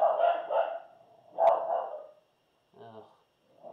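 Dogs barking indoors in a series of sharp barks with pauses between, then a softer yip, moderately close, with a person's voice telling them to quiet down.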